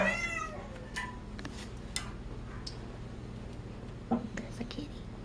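A pet cat meows a few times near the start, thin rising cries close by in a quiet room with faint rustling and small handling noises afterward, while a person quietly works on bandaging.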